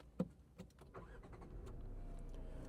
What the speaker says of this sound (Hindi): सबसे पहले इस गाड़ी को स्टार्ट कर लेते हैं।